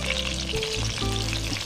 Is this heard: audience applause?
no